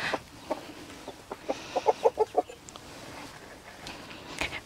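Soft, short clucks from Silkie chickens nearby in a yard, coming in a loose cluster of quick calls with quieter pauses between them.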